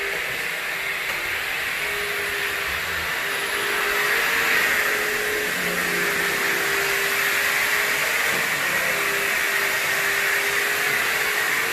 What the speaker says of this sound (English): Carlos is vacuuming the master